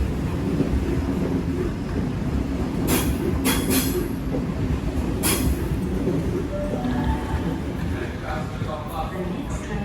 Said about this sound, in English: here's just the train ahead of it leaving, and then the D-set slowly arriving into platform number 21